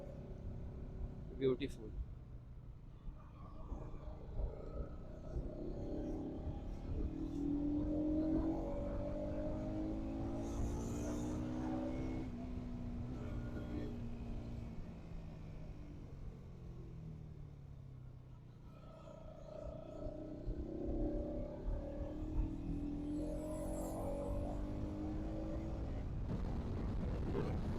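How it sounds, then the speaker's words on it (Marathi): Trucks grinding along a mountain ghat road, their heavy engine rumble steady and fairly close throughout, with a voice speaking over the traffic noise. "काय ट्रक्स, ट्रक्स, नुसते ट्रक्स. कसे चालवताय घाटात"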